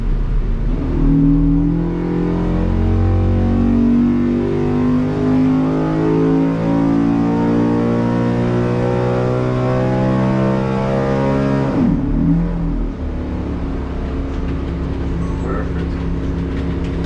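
A carbureted race engine on a dyno during a qualifying run, revving loud and close as its pitch climbs steadily for about twelve seconds, then a sharp drop before it settles at a lower steady drone.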